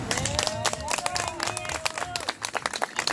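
Audience applause for maestro Benítez at a magic show, dense rapid clapping throughout, with a crowd murmur and a voice over it.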